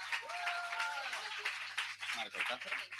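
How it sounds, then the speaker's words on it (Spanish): At a poetry slam, an audience claps and cheers for a poet whose name has just been called, with lively applause over and around speech and voices from the crowd. "¡Un fuerte aplauso!"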